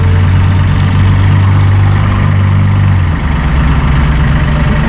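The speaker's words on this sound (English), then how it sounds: "Pretty quiet tractor." A Massey Ferguson 1840M compact tractor with a power shuttle idles steadily nearby, a smooth low engine hum that shifts slightly in pitch partway through and continues without any voices.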